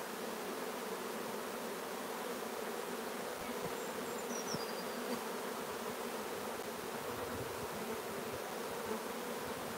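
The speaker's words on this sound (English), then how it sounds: "Bees everywhere." Honey bees swarming around an open hive during queen cell building, a steady dense buzzing hum that fills the whole stretch at an even level, with no voices.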